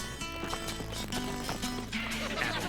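A runaway horse's hooves clatter in a quick, uneven clip-clop, loud and close, tangled with a busy music bed and other background clutter.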